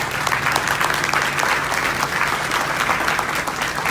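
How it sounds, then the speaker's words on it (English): Audience at a football hall of fame induction ceremony gives a round of applause for two honorees, dense even clapping from a large crowd filling the whole stretch without speech. "Let's have a round of applause for Larry and George."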